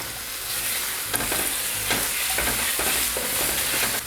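Bacon sizzling loudly in a casserole dish with sautéed seasoning, a steady close frying hiss throughout with faint scrapes of stirring.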